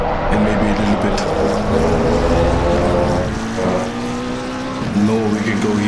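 Loud race car engine at Spa-Francorchamps in Assetto Corsa Competizione multiplayer, revving and easing in repeated waves, with a person talking over the continuous motor noise.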